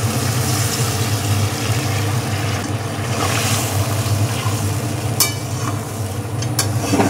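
Warm water pours steadily into a boal fish yogurt curry in a pan, a continuous rushing, splashing wash that runs the whole time with a couple of sharp clinks near the end.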